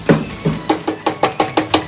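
Hammer taps ring out on the metal thresher shaft of a 2-in-1 rice milling machine, nine sharp knocks in a steady rhythm, close and loud with no voices.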